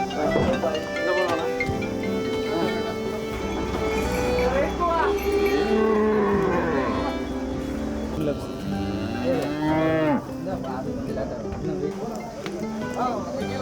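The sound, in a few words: cattle being loaded onto a truck at a market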